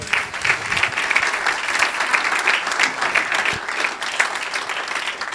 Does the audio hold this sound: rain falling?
no